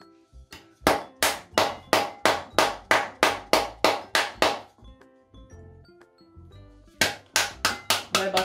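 The side of a whole pomegranate is struck in a fast, even run of about a dozen sharp, close taps. A short pause with light handling follows, then another quick series of taps.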